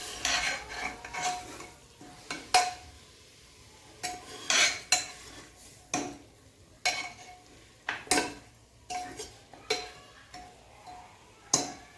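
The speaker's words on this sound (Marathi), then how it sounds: "आपल्याला चांगलं हलवून घ्यायचं आहे. चिकनला पूर्ण हळद आणि धणे पावडर मिक्स झाली पाहिजे चिकनमध्ये." Chicken is stirred in a pan with turmeric and coriander powder, with repeated scraping clinks of a spoon against metal every second or so and a soft sizzle between strokes; no talking.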